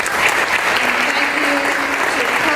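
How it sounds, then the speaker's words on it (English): Audience at a community breakfast with the mayors, held in a church, giving a committee a round of applause: dense, steady clapping from a sizable crowd, evenly loud throughout with no voices on top. "please give them a round of applause for that"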